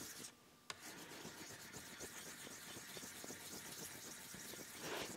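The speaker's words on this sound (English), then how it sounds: "Now just rub this until it's good and flat" A cast iron lathe steady part is rubbed flat on a copper lap coated in abrasive paste, giving a quiet, continuous gritty rasping with steady back-and-forth strokes after a brief pause and click, close by with no talking.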